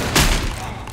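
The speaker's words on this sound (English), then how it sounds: "Keep shooting!" Gunfire in Left 4 Dead 2 on the Dark Carnival campaign at Expert difficulty: one loud, close, broadband blast of shots that quickly fades into a lingering rumble.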